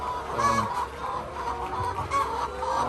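Chickens clucking on a poultry farm in Ghana, several hens calling in overlapping bursts, close and fairly loud against a steady barn background.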